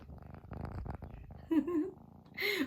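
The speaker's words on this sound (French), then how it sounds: "Va profiter 2 minutes de son ronronnement." A cat purrs close by, a low rumbling pulse that shifts in rhythm, ending with a brief higher-pitched sound at the close.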